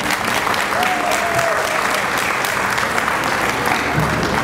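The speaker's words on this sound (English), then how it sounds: "Give him a round of applause, folks." A crowd at the Ocala's Got Talent 2011 show applauds a judge being introduced, dense, loud, sustained clapping filling the hall without a break.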